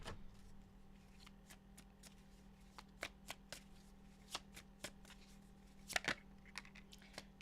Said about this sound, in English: It's telling me to shuffle, so let's kind of get deeper into this.